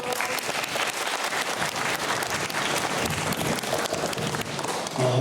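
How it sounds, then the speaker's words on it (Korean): Applause from a school classroom audience after a student's presentation on East Asian holidays, a steady dense clapping wash that stays fairly loud and even for about five seconds, with no voices rising above it. "박수 한번 주세요."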